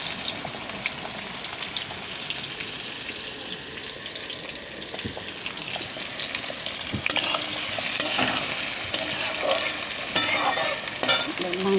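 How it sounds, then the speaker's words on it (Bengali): Meat frying and being stirred in a pan with onions and potatoes already fried, a steady close sizzle with scraping stir strokes that grow louder and busier in the second half, no voices. "মাংস রান্না হচ্ছে"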